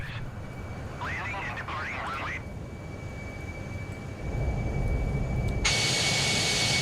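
Airbus A320 jet engines in a flight simulator game give a steady broadband roar throughout, swelling louder near the end with a bright hiss, while a voice speaks briefly early on.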